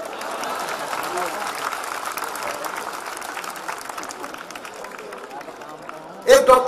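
Steady applause from a crowd at a Hindi comedy poetry show, broad even clapping lasting several seconds before a brief louder burst at the end.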